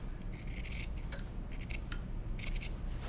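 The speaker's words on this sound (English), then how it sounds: "I'm just gonna go ahead and use my scissors" Scissors snip through lace for a pocketed placemat, a series of crisp close metallic cuts in short clustered bursts over a quiet room hum.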